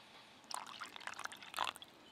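A little over half a cup of water splashes and trickles into flour mixed with ghee in two short bursts, faint and close, with no talking.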